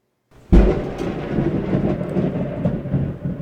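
A sudden loud thunderclap cracks after a short silence, then rolls into a long, heavy rumble that keeps swelling and fading for several seconds.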